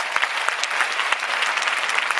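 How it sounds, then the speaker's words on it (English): An audience at a health and wellness summit breaks into brief, close applause, a dense patter of clapping lasting a couple of seconds. "Give these guys a big round of applause."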